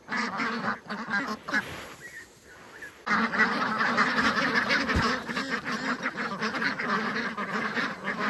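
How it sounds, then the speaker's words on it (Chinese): Ducks quack loudly and continuously at a farm during feeding, a dense flock chorus that briefly thins around two seconds before resuming in full, with goose-like honks mixed in. "现在鸭子不喂玉米了哈，"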